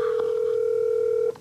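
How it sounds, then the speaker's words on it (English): A steady telephone dial tone hums loudly and continuously, then cuts off as dialing begins with a brief tone at the end. "Sarah, can you call my mom in Syracuse?"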